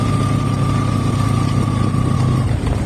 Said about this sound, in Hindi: हम अपनी बाइक में चैन लगा रहे हैं। हाँ जी, चैन लग गई है। अभी को चला के देखते हैं।